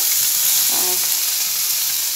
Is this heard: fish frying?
yes